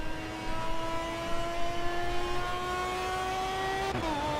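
Tuned Mazda MX-5 Miata engine in a racing video game, holding a steady high-pitched tone that climbs slowly and then drops with a shift near the end, loud and close with no talk.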